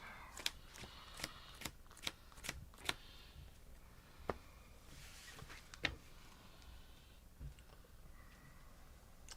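Disney Lorcana trading cards are riffle-shuffled in quick, crisp bursts, several short ruffles close to the mic and then a softer, scattered tail of card handling at a low overall level.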